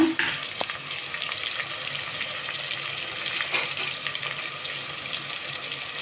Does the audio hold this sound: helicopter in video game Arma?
no